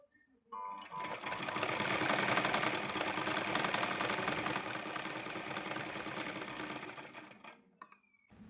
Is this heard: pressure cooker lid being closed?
no